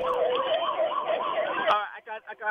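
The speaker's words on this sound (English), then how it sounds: "I hear sirens. I hear people shouting." Sirens wail in a repeating rise-and-fall pattern at a street protest, heard thinly over a phone line, before breaking off into choppy, muffled noise near the end.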